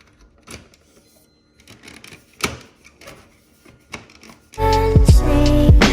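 BMW E60 facelift part being cut for holes: scattered sharp clicks and taps, then a loud whining power-tool cut that runs steadily near the end, no talk.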